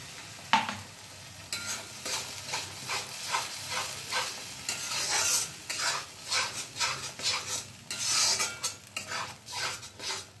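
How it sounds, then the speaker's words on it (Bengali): Ginger garlic paste fries in a wok while a metal spoon stirs, giving continuous sizzling with repeated scraping and clinking strokes at close range, and no speech. "এবার কড়াইতে দিয়ে দিচ্ছি এই বড় চামচের 1 চামচ পরিমাণ আদা রসুন বাটা।"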